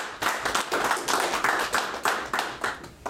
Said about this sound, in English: I think a round of applause for the Spanish team.